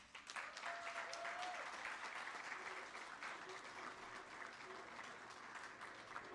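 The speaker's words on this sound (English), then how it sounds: "A round of applause." Audience applause at a UNISA Afrikan Peer Growth Network gala dinner, steady and fairly faint with a room wash, holding evenly for several seconds with a brief tonal hum early on.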